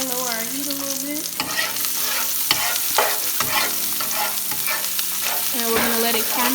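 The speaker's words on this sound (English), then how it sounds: "We're going to add our habanero up in there, give it a little stir, lower our heat a little bit." Habanero is stirred into caramelized onions sizzling in a pot, with a continuous loud frying hiss, scraping stirs, and a few sharp knocks of the spoon against the pot.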